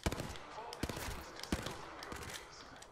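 Burst rifle fire in Apex Legends, heard as several quick sharp cracks spaced across a few seconds over a busy game background.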